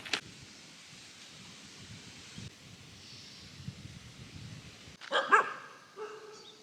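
Dogs bark at a temple in Langkawi: faint outdoor rustle and wind, then a short burst of close barking near the end.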